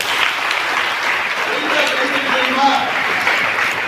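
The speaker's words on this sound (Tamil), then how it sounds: "சுப்ரியா சுப்ரியாவுக்கு ஒரு கைத்தட்டி கொடுங்க" A crowd of college students claps steadily at a district-level science festival, with dense, even applause filling the whole stretch and no breaks.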